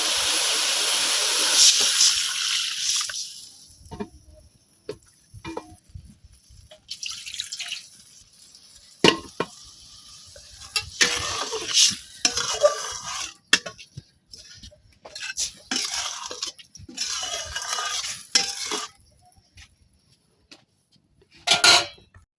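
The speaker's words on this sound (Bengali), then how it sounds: "এখন দিয়ে দেন পরিমাণ মতো ঝোল" Broth poured into an eggplant and fish curry in a village kitchen pan gives splashing and dripping, a hiss of steam, and scattered clinks of a spoon against the pan, coming in uneven bursts with quiet gaps between.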